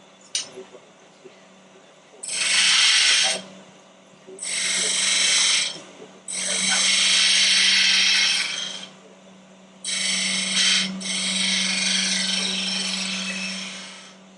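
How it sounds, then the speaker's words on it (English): A 9/16 spindle gouge cuts spinning wood on a lathe in four loud, sustained bursts of bright hissing scrape, separated by short pauses, over a steady low motor hum. "This is a spindle gouge, 9/16 spindle gouge."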